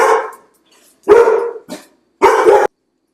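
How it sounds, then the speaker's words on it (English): Three big dogs bark at someone at the door indoors, several loud deep barks in separate bursts with silent gaps between. "I had somebody come to the door, and I have 3 big dogs, as you probably know by now, and they are just great watchdogs"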